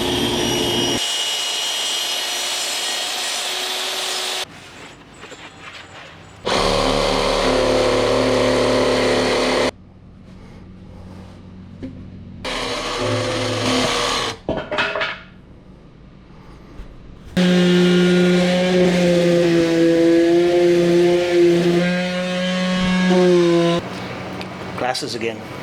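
A power saw cuts wooden side panels for a drawer cube in an overlanding build, roaring loudly in several separate bursts with quieter pauses between cuts and a long final cut near the end.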